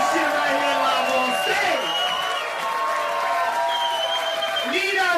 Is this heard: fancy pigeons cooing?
no